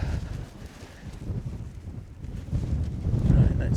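Wind gusting at a wild camping site around a Hilleberg Enan tent, a steady low rumble buffeting the microphone that swells louder toward the end.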